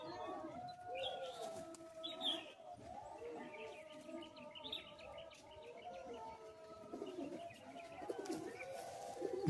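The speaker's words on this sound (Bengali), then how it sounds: "সব সেলের মধ্যে আছে পায়রাগুলো।" Fulshira pigeons kept in cells coo softly and repeatedly, with occasional chirps and a faint murmur of people in the background.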